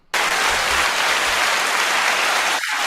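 An audience applauds a Tennessee Teacher of the Year, a dense, steady burst of clapping that starts sharply and holds loud from the near seats out to the cheap seats, then dips briefly near the end.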